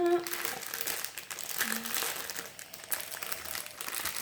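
Diamond painting packaging being opened, its plastic wrapper crinkling and crackling in irregular bursts at close range, with someone speaking over much of it.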